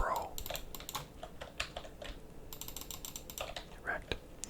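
Mechanical clicking of a computer keyboard while Apex Legends plays, a quick irregular patter of close keystrokes with brief bursts and pauses, faint game noise underneath.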